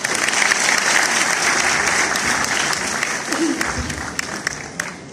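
An audience at a Punjabi mushaira breaks into sustained, full applause for a poet, loud and dense at first, then thinning into scattered claps near the end.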